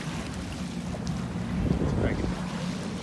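A sailboat under sail on a cool, breezy day, with steady wind rushing over the microphone and water washing along the hull, continuous and close.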